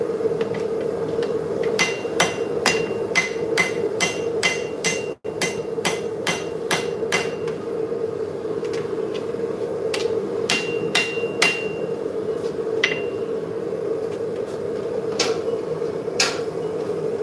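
Hammer blows on hot steel at an anvil during forging, sharp ringing strikes in quick bursts of several, with pauses between groups, over a steady low hum of a forge blower.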